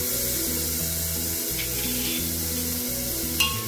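Capsicum, carrots and green peas sauté in a hot pan with a steady, close sizzle, while music plays continuously underneath.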